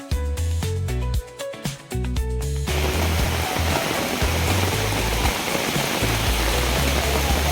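After a few seconds of tonal music, a steady broadband rush of falling water takes over, close and constant like a small waterfall, at Ubhadewadi waterfall in Konkan.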